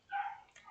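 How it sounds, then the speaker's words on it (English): A puppy gives a single short, fairly close yip-like bark, followed by a softer second yelp, alone in a quiet room. "the puppy barking"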